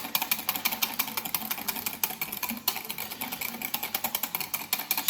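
Lemon juice and sugar being whisked in a bowl for a lemon posset, a fast, steady run of close, crisp strokes repeating evenly throughout.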